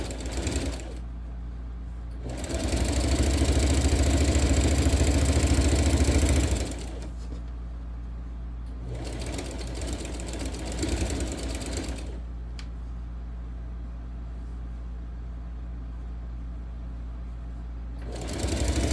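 A sewing machine stitches a quilted seat belt cover with a 3/8 inch seam. It whirs steadily in several runs a few seconds long, with pauses between them.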